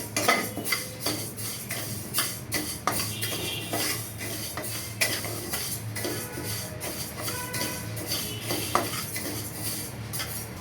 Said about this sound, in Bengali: ডাল হালকা করে ভাজা নিব।